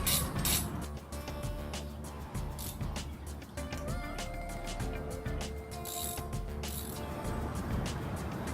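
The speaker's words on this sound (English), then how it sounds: "I'm just going to hand tighten this for now with my ratchet" A motorcycle handlebar being hand-tightened with a ratchet on a budget Triumph Bonneville cafe build: a steady run of close, rapid mechanical clicking and metallic ticking that carries on through the whole stretch at moderate volume.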